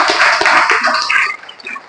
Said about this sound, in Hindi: सर के लिए चाहिए एक जोरदार ताली होना चाहिए।